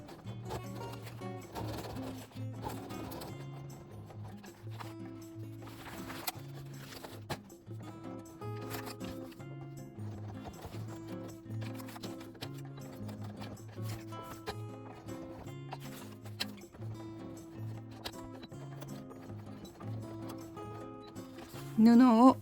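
A sewing machine stitching a straight seam along fabric folded right sides together by 9 cm for a DIY pocket: a steady low mechanical whirring rattle running continuously, close and fairly quiet.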